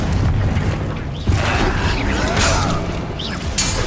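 A Confringo fire spell blast in the video game Hogwarts Legacy: one sharp burst early on, set among clanking, creaking mechanical game sounds and fainter impacts.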